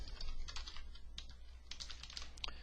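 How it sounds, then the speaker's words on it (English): Typing a web address on a computer keyboard, a quick run of soft, close key clicks in uneven bursts over a quiet background hum. "So I'm going to go ahead and type in www.AmericasFootprints.com again."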